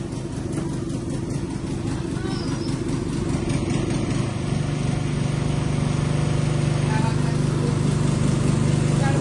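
Two boat engines run together as a steady, continuous mechanical drone with a low hum, holding loud and even throughout, with voices faintly mixed in.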